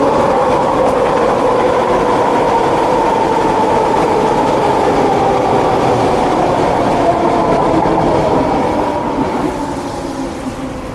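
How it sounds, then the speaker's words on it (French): A train rolls past close by in a steady, loud rumble with a faint metallic rail rattle. The roar holds for about nine seconds before starting to fade away near the end. "Ça, c'était le bruit du train."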